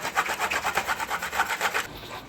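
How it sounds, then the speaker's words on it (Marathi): Coconut is grated by hand in quick, even rasping strokes, about nine scrapes in under two seconds, close up and dry-sounding before stopping abruptly. "खोबरं किसणं चालू"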